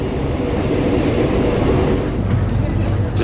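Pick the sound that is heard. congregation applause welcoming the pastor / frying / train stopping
train stopping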